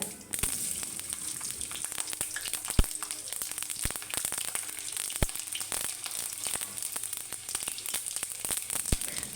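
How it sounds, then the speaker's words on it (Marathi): Cumin and mustard seeds frying in hot oil with garlic for a Marathi vegetable dish: a close, steady sizzle with scattered sharp pops and crackles, heard alone. "आता जिरं मोहरी चांगली तळतळली त्यानंतर आपण त्याच्यात लसण घालूया"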